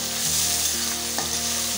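Onions sizzling and frying in a pan for a cabbage roll, a steady loud crackle with a few stirring scrapes, no voices.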